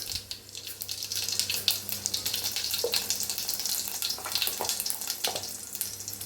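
Mustard seeds and cumin crackle in hot sunflower oil in a kadai over a low gas flame. A continuous, moderately close sizzle carries dense popping spatter, with no talking.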